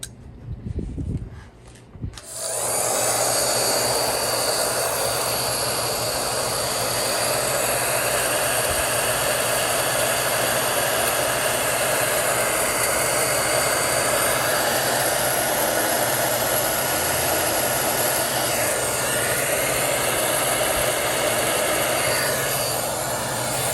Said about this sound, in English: Someday I'll have to get a more modern heat gun, but I've been using this one for